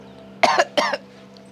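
Two sharp coughs in quick succession, close and fairly loud, from a person in a quiet indoor family home setting, with a faint steady hum underneath.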